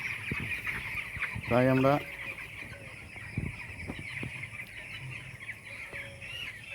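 Poultry-farm chickens clucking, one clear nearby cackle standing out amid scattered softer clucks and farm noise, while someone speaks briefly.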